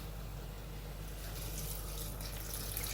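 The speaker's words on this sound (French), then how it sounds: "On va rajouter de l'eau à hauteur des" Water poured from a tap into a cooking pot for shrimp bisque, a steady hissing stream running for about three seconds, close and moderately quiet, with no talking over it.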